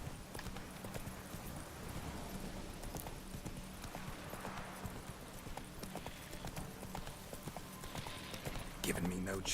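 Hooves of the horse Roach clip-clopping at a steady gallop in a video game, rapid rhythmic beats under continuous talking, with a brief clatter at the end.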